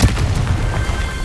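A Confringo blasting spell explosion in the Hogwarts Legacy video game: a loud, continuous low rumbling boom with crackling texture that holds steady for about a second.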